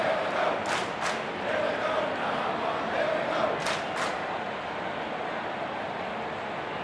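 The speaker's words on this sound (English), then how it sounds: "getting the crowd involved" A large stadium crowd at an AFL qualifying final between Port Adelaide and Collingwood keeps up a broad, roaring cheer, with a few surges of shouting and whistling in the first half before it settles to a steady din.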